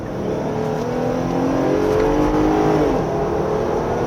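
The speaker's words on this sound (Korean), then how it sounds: "엔진 회전수 올리는 게 굉장히 경쾌합니다" A 2022 Jeep Gladiator Rubicon on mud tires climbs a winding road in low gear, its engine revving and accelerating loudly and continuously from close inside the cab, with the engine note rising and falling.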